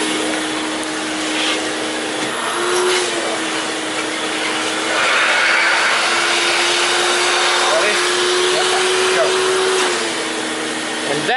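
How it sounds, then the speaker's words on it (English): Vacuum cleaner sucking air while sealing an engine, a loud continuous whine and airy rush with a steady motor tone that shifts slightly in pitch over several seconds. "And that's how you vacuum seal an engine."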